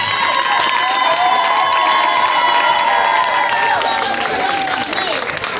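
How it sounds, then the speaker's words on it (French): Loud crowd cheering and applause at a school graduation ceremony for preschool children, with high excited shouts and whistles layered over dense clapping, continuous and energetic throughout. "Merci pour vos applaudissements."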